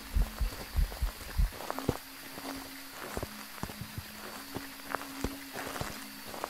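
A ghost's footsteps during a hunt in the video game Phasmophobia, steady evenly paced soft thuds over a low ambient hum, with a few heavier thumps near the start.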